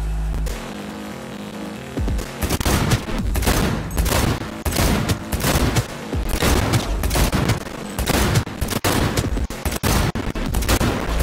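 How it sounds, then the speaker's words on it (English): Rapid bursts of automatic machine gun fire in the video game Cyberpunk 2077, loud, dense rattling volleys that keep going with brief gaps and heavy booming impacts. "How is machine gun rounds are being stopped by a couch?"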